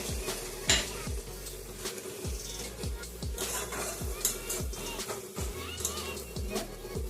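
Cucumber being stirred with a paste of ground ginger, mustard and poppy seed in a pan: repeated rhythmic scraping strokes of a utensil against the pot over a soft sizzle, with clinks of cookware.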